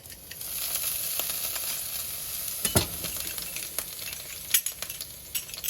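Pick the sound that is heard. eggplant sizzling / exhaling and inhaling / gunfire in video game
eggplant sizzling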